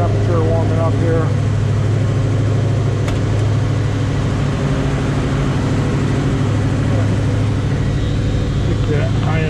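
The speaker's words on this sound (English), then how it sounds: "Got that nice Mustang sound" A 1970 Ford Mustang Mach 1 fastback with an M-Code V8, 5-speed and shaker hood, running at high idle while warming up: a loud, steady, close engine drone with a deep rumble that never lets up, and a few brief words spoken near the start and end.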